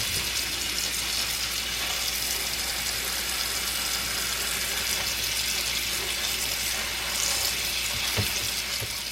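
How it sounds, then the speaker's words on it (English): Cold tap water runs steadily into a salad spinner set in a kitchen sink for soaking romaine lettuce, a continuous close hiss and splash with no talking and one brief clunk near the end. "fill the whole salad spinner up with cold water"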